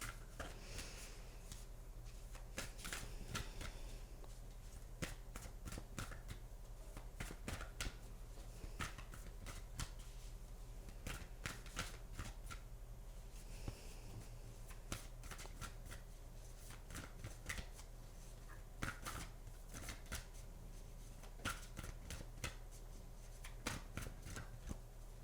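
Oracle and affirmation cards being shuffled by hand, a steady run of soft riffling and flicking strokes that repeats in bursts, close and fairly quiet against low room hum, with no talking.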